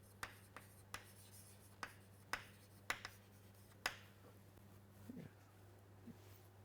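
Writing an equation on a board: a series of sharp chalk taps and short strokes, about nine distinct hits in an irregular rhythm, close and faint over a steady low hum.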